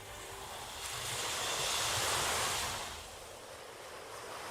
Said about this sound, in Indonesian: lihatlah laut itu terbelah